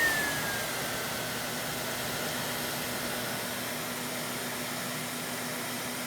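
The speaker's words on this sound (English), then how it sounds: "Let's go and switch it to low speed." A Filter Queen D31x canister vacuum motor hums at a lower, softer speed, giving a steady airy whoosh with a faint tone, close by and unbroken throughout.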